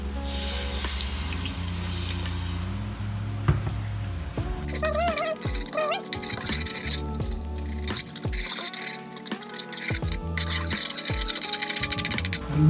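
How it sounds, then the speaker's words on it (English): Chicken stock poured into a hot flour roux in a pan for Japanese katsu curry: a rushing, sizzling hiss at first, then settling into wet bubbling and squishy stirring clinks, close and fairly loud, with no voices. "Now I'm just going to chuck in some of the stock, the chicken stock."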